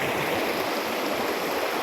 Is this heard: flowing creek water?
yes